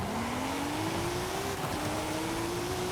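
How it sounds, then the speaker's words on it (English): A 1,300-horsepower wide-body Toyota GR Yaris engine revs hard and close, its pitch climbing steadily and holding high in one loud, unbroken pull with no talking. "All right, that revs pretty fast."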